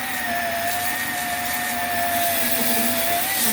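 Cordless power tool sanding a YZ250 two-stroke cylinder head, a steady high whirring drone with a constant motor whine, close and continuous throughout without pauses or talk.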